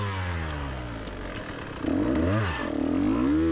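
A KTM 150 XCW TPI two-stroke dirt bike on a steep enduro climb revs up and down, with a close buzzing engine and a metallic rattle from the clutch plates.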